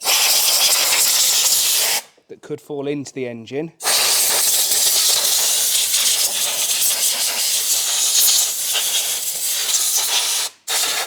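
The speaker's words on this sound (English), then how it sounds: "Now I'm going to use the airline to get rid of any debris that might be up here" A compressed-air airline blasts debris off a dirty 220,000-mile 1.8T BAM car engine in loud, close, sustained hissing bursts, broken by a short pause where someone speaks, then resuming with another brief gap near the end.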